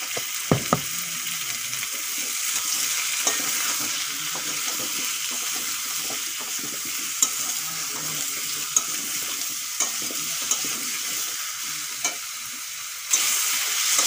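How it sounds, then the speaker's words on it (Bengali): Sliced bottle gourd fries in a pan seasoned with a little turmeric and salt, a steady bright sizzle with occasional stirring clicks and scrapes running throughout, close and even, no voices. "লাউ ভাজাও হয়ে গেছে, এখন তুলে নেব।"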